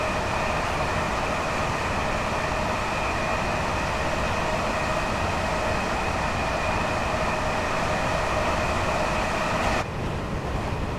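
A train in Train Sim World 5 runs on with a steady, continuous rumble and a constant tonal hum, loud and unchanging throughout, with a brief shift near the end and no talk.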